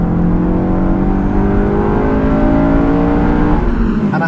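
A Honda S2000 engine revs hard and climbs steadily in pitch toward 9,000 RPM, reaching a high, screaming whine, loud and close.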